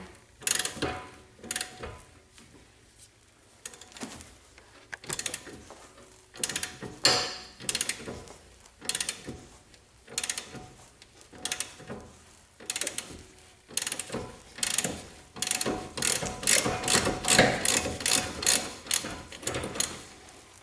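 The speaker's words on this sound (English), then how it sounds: "I have a 1/2-inch ratchet with a 7/8 socket. I'm going to start cranking that down." A 1/2-inch ratchet with a 7/8 socket cranks down a ball joint press on a 1994-2004 Jeep Grand Cherokee front suspension, giving repeated bursts of rapid clicking in uneven strokes, louder and denser toward the end, with no talk.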